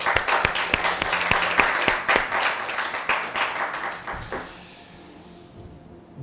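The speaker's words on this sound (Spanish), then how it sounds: "Un aplauso para ellos." At a postgraduate diploma ceremony in the State of Mexico, an audience gives a burst of loud, dense applause lasting about four seconds, then it fades into a quiet room.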